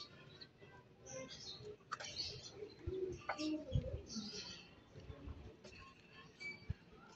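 Pigeons cooing softly in a coop, low murmuring calls mixed with faint chirps, light rustling and brief knocks, with a person talking quietly nearby.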